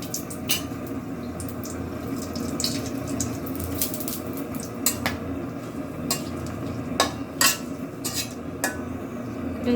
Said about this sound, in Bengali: তেলটা গরম হয়ে গেছে গা দুইটা তেজপাতা দুই শুকনা মরিচ